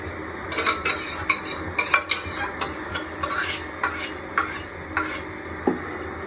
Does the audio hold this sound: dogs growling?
no